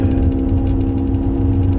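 Maserati fitted with a Ferrari V8 running close by, a loud, steady low throb with an even pulsing rumble and no clear revving, heard alone without talk.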